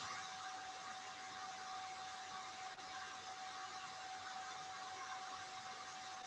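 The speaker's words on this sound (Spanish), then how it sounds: "Puede ser justamente ese ruido del cooler de la computadora que se escucha a través del micrófono" An old computer's cooling fan picked up by a microphone during an online meeting: a steady, faint broadband whir with a thin constant tone, unchanging throughout and with no speech.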